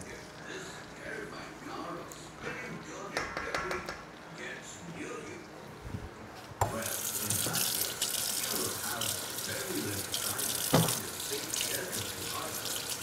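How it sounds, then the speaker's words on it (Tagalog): Running tap water rinses a spatula at a kitchen sink, a soft trickle that swells into a steady, louder gushing stream partway through, with brief faint talk at the start. "Hinuhugasan ko lang yung spatula ko"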